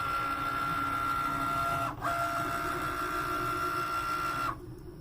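A Cricut Maker cutting felt for a DIY felt board gives off a steady mechanical whir with a sustained tone, a brief dip near the middle, then a change in pitch as the carriage moves, close and continuous.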